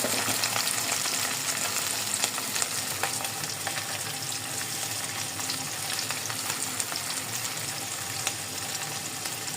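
Fish dusted in rice flour frying in hot oil, a steady close crackling sizzle that runs unbroken and loud throughout, with no voices.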